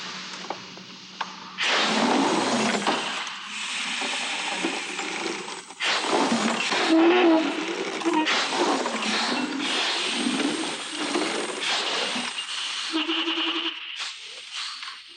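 A man-powered flapping-wing aircraft mechanism runs in a continuous mechanical clatter with creaks and rattles, close and fairly loud, broken by a few brief drops in level.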